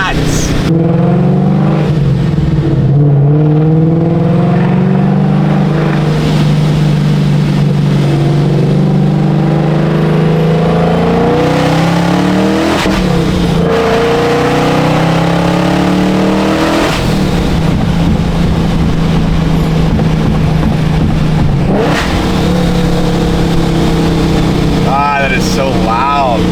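A procharged Ford Mustang S650 making about 900 wheel horsepower revs loudly and continuously, its engine note rising and falling as it is held near a 5,000 RPM limit, with people talking over it.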